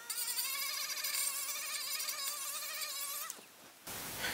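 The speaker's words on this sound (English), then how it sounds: "I wanna Scotch Brite the weld area." Powered scuffing tool with a Scotch-Brite pad buzzing over a shiny stainless steel weld area, a steady high whine with wavering pitch that drops as it winds down near the end.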